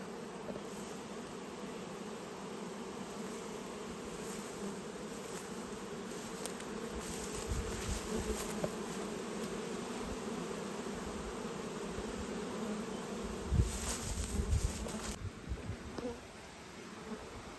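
Honeybees forage over a flowering mustard field, their buzzing forming a continuous close hum, with individual bees swelling louder as they pass near. Faint speech is audible in the background.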